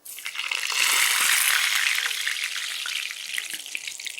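Green gram vadai dropped into hot oil, a loud, dense sizzle that swells quickly and stays bubbling steadily, close by and alone, with no voices.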